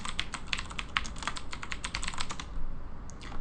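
Quick keystrokes on a computer keyboard while a terminal command is typed, a close, crisp run of clicks at an even pace that briefly pauses near the end, with no talk.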